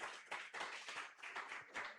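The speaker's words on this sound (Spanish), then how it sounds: "Alguien que le dé un buen aplauso al Señor en esta mañana." A church congregation applauds during a Sunday morning service, a dense burst of many hands clapping steadily for about two seconds, close and lively, with no voices rising above it.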